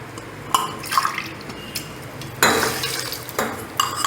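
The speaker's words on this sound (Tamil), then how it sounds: "முதல்ல நாம் இந்த முளைப்பயிர்களில் ஒரு குக்கரை வச்சு அதில் 400 ml தண்ணி ஊற்றி" Water poured into a pressure cooker holding mixed sprouts in a home kitchen, with clinks of metal pots and utensils and splashing bursts of liquid, close and intermittent.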